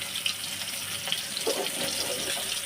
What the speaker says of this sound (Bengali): রুই মাছ ভাজতে দিচ্ছি।